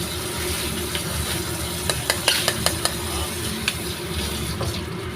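Food fries in a pan with a continuous soft sizzle, broken by a quick cluster of light utensil taps and scrapes near the middle, close and moderately quiet.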